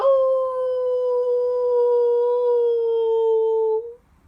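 A person imitates a werewolf howl, one long sustained tonal wail held steady for about four seconds before cutting off, loud and close with no other sound around it.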